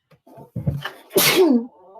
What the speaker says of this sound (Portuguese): Eu quero espirrar.